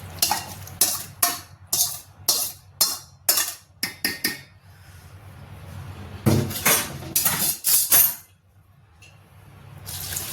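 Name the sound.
sautéed vegetables poured into pot and stirred for biryani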